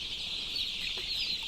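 Chickens on a poultry farm cluck softly and steadily during a fowlpox vaccination, a continuous low-level flock murmur with no voices.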